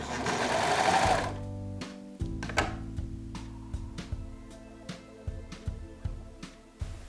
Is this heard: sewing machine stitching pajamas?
yes